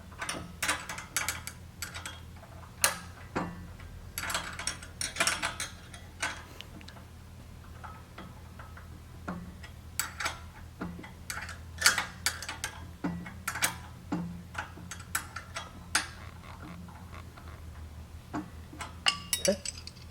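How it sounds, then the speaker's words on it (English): Two 13mm wrenches tightening a bolt on a pallet truck toe guard at the steer wheel, heard as irregular metallic clicks and ticks from close by over a low steady hum. "Tighten the bolt up with two 13mm wrenches."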